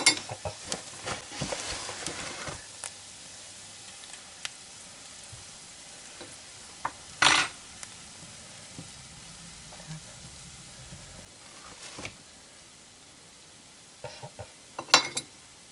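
Onion fried with flour in a pan sizzles softly and evenly throughout, broken by occasional stirring scrapes and a few sharp clinks of a spoon against the pan.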